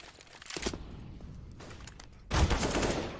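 Gunfire in Counter-Strike on the Inferno map during a pro match: scattered shots early, a quieter lull, then a loud sharp burst of rapid rounds near the end.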